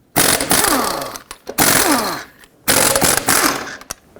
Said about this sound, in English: With a 19mm socket, remove all 5 of your lug nuts and then remove the wheel.